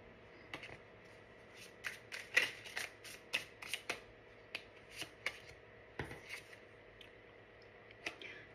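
A deck of tarot cards is shuffled close by, with soft riffling and repeated crisp slaps and flutters in an irregular rhythm over a low background hum.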